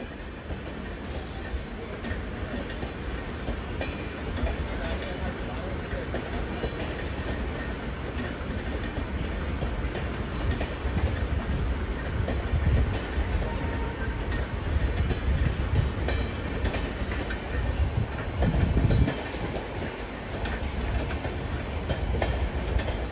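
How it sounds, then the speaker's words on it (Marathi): A Mumbai local fast train runs past Vidyavihar station, a steady loud rumble of wheels and carriages that swells slightly toward the end. No one speaks over it. "एक जलद गाड़ी जाने वाली है।"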